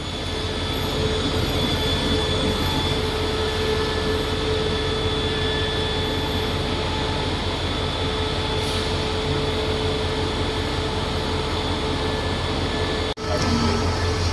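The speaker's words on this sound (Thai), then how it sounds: "ขบวน139 ออกแล้วนะฮะทุกคน" Passenger train 139 pulls out of Don Mueang station, a loud continuous rumble of rolling cars and wheels with faint squeal, steady throughout at close range, no talking.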